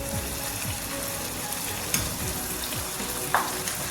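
Two medium tomatoes, cut up, fry in a pan for a chicken curry, giving a steady close sizzle with a couple of light sharp clicks from the pan. No voices.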